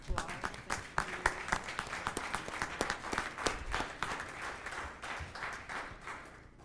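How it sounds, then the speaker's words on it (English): Audience at a city council meeting applauds the fire department, a steady burst of hand clapping from a roomful of people with brief voices mixed in. "So can we all give the fire department applause?"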